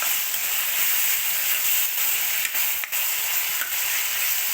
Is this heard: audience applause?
no